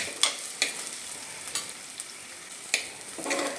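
Sliced onion fries in hot oil in a pan for a Kerala plantain curry, with a steady close sizzle and occasional sharp scraping stirs of a spatula; no talking.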